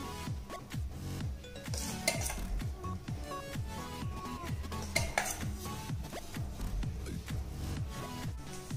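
Metal ladle scraping and clinking against a pot while prasadam is served into a bowl, with repeated stirring and scooping strokes and occasional sharper clinks, close and steady throughout.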